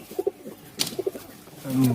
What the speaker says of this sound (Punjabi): ਸਲੇਟੀ ਪਾਕਿਸਤਾਨੀ ਕਬੂਤਰ ਹੈ